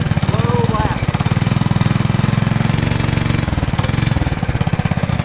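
A homemade go kart's small engine runs loud and close, a steady rapid chugging that rises and falls slightly as the throttle shifts, with no talk over it.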